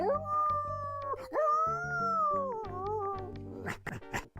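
A voiced dog in the classic adventure game The Secret of Monkey Island, a drawn-out tonal whine and bark-like yelps over steady game music, ending in a couple of sharper barks.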